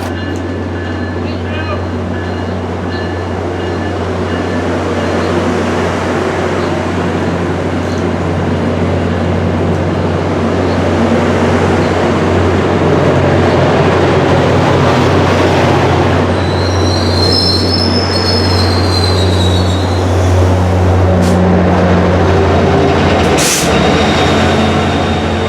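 An MBTA commuter train run by Keolis, hauled by F40PH-3C locomotive 1061, rolls steadily past at Readville with a continuous loud rumble, humming engine drone and a brief high wheel squeal.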